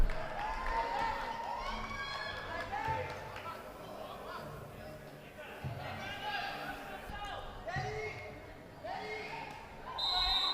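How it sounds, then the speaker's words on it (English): A crowd at a 2019 African Cup mixed game claps and cheers the team from a distance, a steady wash of applause with voices talking over it and a few sharp thuds from the court. "But a big round of applause for them"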